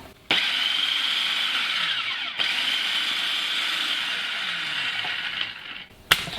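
A food processor runs continuously, mixing shortcrust pastry dough with a splash of milk for a quiche Lorraine, a steady loud whirring hum starting abruptly and briefly interrupted by a click before stopping.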